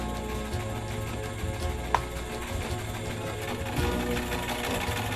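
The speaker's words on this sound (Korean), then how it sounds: "안악들이 옷을 지을 땐 마을 공용인 이 재봉틀을 사용한다고 합니다." A communal village sewing machine used by the women of the Sauape tribe in the Brazilian Amazon to make clothes, running in a fast, steady mechanical chatter up close, continuous for the whole stretch with one brief sharper clack.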